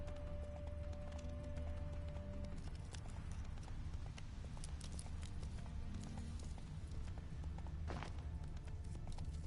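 A horse in The Witcher 3 video game galloping, with a steady stream of hoof clip-clops over a low constant rumble lasting the whole stretch, no voices.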